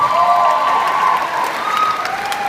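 An audience at a concert applauds loudly and steadily, with some cheering mixed into the continuous clapping from a large crowd.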